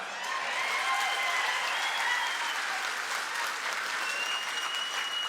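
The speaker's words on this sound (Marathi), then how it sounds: "आणि ऍडव्हान्स टाळी वाजवायची का आता? वाजवा." Steady, dense applause from a large crowd at a public gathering in Barshi, sustained at an even level throughout with no pauses.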